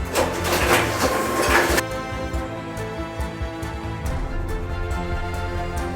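A Datastroyer 105 cross cut shredder grinds through hard drives with a loud, dense crunching roar. It then drops to a steady mechanical drone broken by scattered clicks and knocks.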